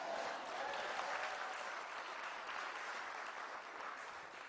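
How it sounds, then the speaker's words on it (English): Steady applause from a crowd of distinguished guests fills a state budget address by the Illinois governor, holding fairly even and moderately loud throughout without speech. "yeah, that's okay to clap to"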